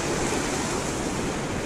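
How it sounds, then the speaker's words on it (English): Fairly calm ocean surf, about 3.5 feet and roughly ten seconds apart, breaks along a fishing beach, a loud continuous wash of rushing water with no voices. "The waves today is pretty calm, actually."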